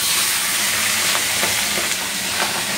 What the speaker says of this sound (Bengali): আর চিংড়িটাকে চালিয়ে দিই, ফাটবে তো, ফটাস ফটাস।